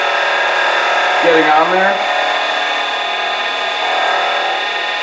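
A rag of carnauba wax is pressed against a turned pen spinning on a wood lathe, giving a brief rubbing sweep over the steady whir of the lathe motor, with a person talking briefly.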